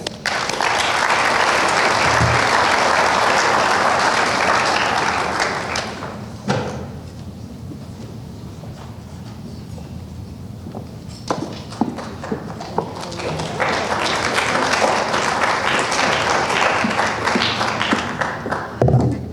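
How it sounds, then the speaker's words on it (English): A graduation audience gives a warm round of applause, dense clapping that fades out into a quieter stretch of scattered taps and movement before a second wave of applause swells up again. "Please welcome me to give a warm round of applause for Ms. Hoffman."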